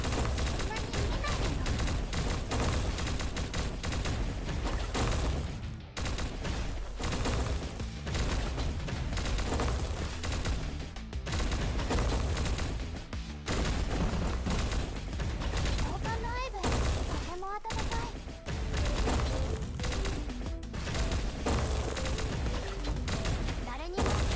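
Nonstop rapid gunfire from a mobile shooter game rattles densely and loudly for the whole stretch, mixed with game effects and music, with a voice talking over it at times.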